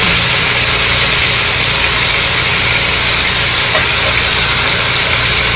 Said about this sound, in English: So you see that sizzle right there?